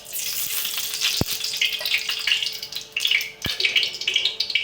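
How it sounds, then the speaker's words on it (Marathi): Oil poured into a very hot kadai for a Maharashtrian dal-brinjal recipe, a loud close sizzle and crackle with a couple of sharp metallic taps of a spoon. "कढई खूप गरम झाली आहे आणि तेल टाकू आपण"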